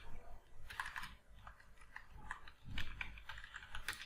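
Keys tapped on a computer keyboard while a job proposal is typed for a Freelancer application, a quiet irregular run of light clicks with small bursts and pauses, close and alone without talk.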